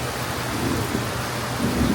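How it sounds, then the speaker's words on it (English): Heavy rain pours down steadily during a thunderstorm in a backyard flooded like a pond, with a low rumble of thunder swelling underneath the dense, hissing downpour throughout. "That's a lot of rain."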